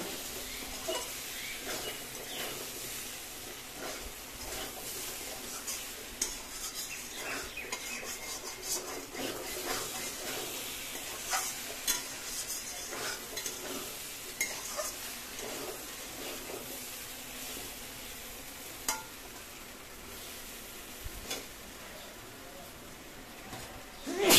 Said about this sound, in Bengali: এই সঙ্গে আমি মাছগুলো দিয়ে কষিয়ে নেব।